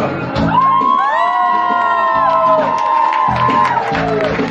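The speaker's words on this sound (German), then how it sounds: "Begrüßt mit mir mit einem riesen Applaus unsere Anka!" An audience at a live show shouts and whoops loudly as a performer is welcomed, with sustained cheering, high yells and a low crowd roar. Clapping is not clearly picked out under the voices.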